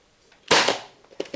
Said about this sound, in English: We're gonna shoot them nails straight into the parquet.